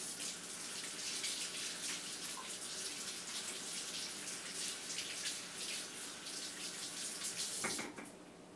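Kitchen tap running steadily while hands are washed, a soft, continuous splashing stream that cuts off abruptly near the end, heard close and alone.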